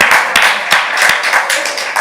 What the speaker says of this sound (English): let's clap yourselves up and keep that energy going